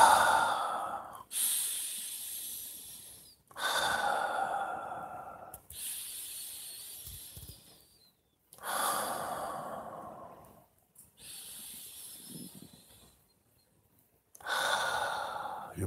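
Slow, deep breaths drawn in and let out during a guided meditation, each long airy inhale and exhale close and clear, repeating roughly every two to three seconds with short silent gaps and no talking.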